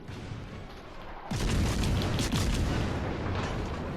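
A salvo of naval guns from an enemy destroyer in World of Warships Legends, booming in suddenly after a low rumble and rolling on as a heavy, layered roar with a second thump.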